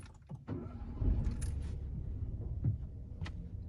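A 2019 Citroën C3 1.2 VTi PureTech 82 fires up close by: a few clicks and a short crank, then the small three-cylinder settles into a steady idle, with no talking.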